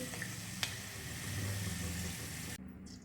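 Peanuts fry in hot oil for kande pohe, giving a steady, dense sizzle that holds close and even before cutting off abruptly near the end.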